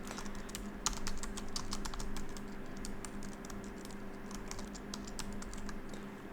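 Computer keyboard typing as details are entered into an access-management software form, a steady run of light, quick key clicks, fairly faint and close, with no talking.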